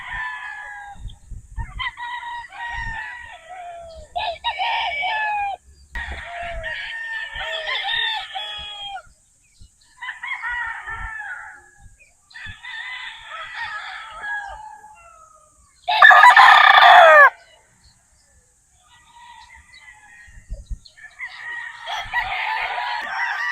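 Roosters on a gamefowl farm crowing repeatedly and clucking, several birds near and at middle distance, one very loud crow standing out midway, with short pauses between calls.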